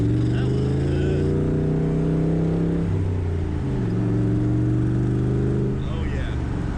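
A 600 hp Shelby Cobra accelerating hard, engine note droning and rising loud and close, then dipping at a gear change into second and pulling again, with a brief tire chirp; wind rushes throughout.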